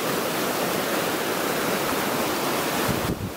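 A fast-flowing river of clean snow melt on a Santa Barbara hiking trail, a loud, close, continuous rush of water that drops away abruptly at the very end.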